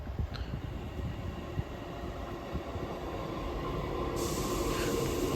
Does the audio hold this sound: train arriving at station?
yes